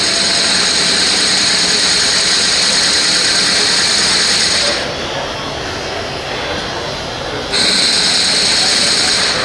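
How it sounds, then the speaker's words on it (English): Slotted drill bit boring into glass thumps against its guide, making a loud, steady grinding hum with a high whine that drops out briefly mid-way and then returns, with no talk over it. "the thumping sound you hear is because this bit has a lot of slots at the bottom and it's hitting that guide"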